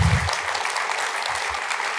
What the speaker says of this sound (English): Let's give Larry another round of applause.